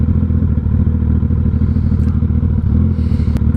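Suzuki Hayabusa motorcycle being ridden, a loud steady low engine drone with a rumbling throb heard close from the rider's position, plus a couple of faint clicks and rattles late on.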